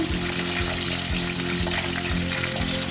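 Loud, continuous sizzle of a fish head frying in a pan, crackling evenly over a steady low background hum, with no one speaking.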